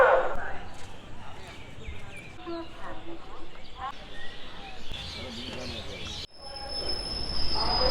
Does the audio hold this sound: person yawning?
no